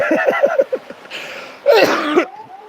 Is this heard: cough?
yes